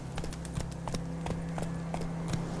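Roach the horse's hooves clip-clop at a steady trot on ground in The Witcher 3, a regular rhythm of close, moderate knocks with no talking.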